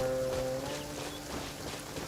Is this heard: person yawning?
no